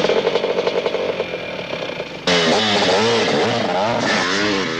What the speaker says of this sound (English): The wait is over for the ultimate 450 motocross bike, derived from the RC500 Works bike.